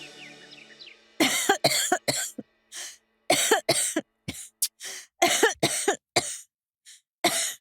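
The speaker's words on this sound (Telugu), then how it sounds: "అరే దగ్గటం కాస్త ఆపుతావా?" A person coughs in a long fit of sharp, loud bursts, some paired and some single, separated by short silences; faint birds chirp just before the coughing starts.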